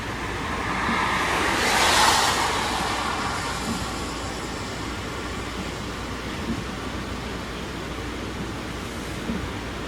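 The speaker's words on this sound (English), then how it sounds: "the water is absolutely raging. We're about 6 miles from Grindelwald, Switzerland. We're looking out at one of the waterfalls" A snowmelt-fed waterfall raging off a mountainside near Grindelwald, Switzerland, heard as a continuous broadband roar of rushing water, swelling slightly early on and then holding steady, with no voices.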